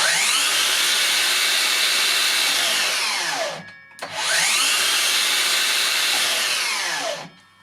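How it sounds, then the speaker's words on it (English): A Makita DLS111 mitre saw runs twice, loud and close: each time the motor whines up to full speed, holds for about three seconds, then winds down under its brake. "The DLS 111 sounds like this."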